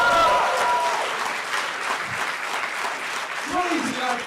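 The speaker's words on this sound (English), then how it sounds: "thank you for the applause" Audience at a hardware and arts hackathon final demo event applauding, dense continuous clapping filling the room, loud and sustained, with a voice briefly heard under it near the end.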